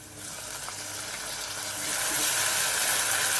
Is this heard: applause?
no